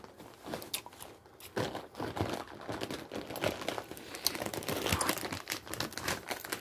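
A bag crumpled and scrunched up by hand into a muck bag, giving close, irregular crinkling and crunching bursts that run on for several seconds without pause.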